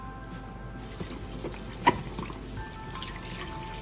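Running tap water splashes steadily over raw pork ribs being rinsed in a kitchen sink, a continuous close hiss with one brief louder knock partway through, no talk.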